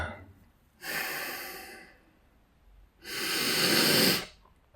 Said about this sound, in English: Take a long breath in.